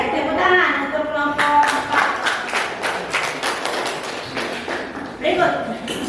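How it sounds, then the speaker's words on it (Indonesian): Classroom students clapping for a presenting group, a run of sharp, uneven claps from a modest crowd of pupils, steady over several seconds with a voice speaking at the start. "tepuk tangan untuk kelompok 4"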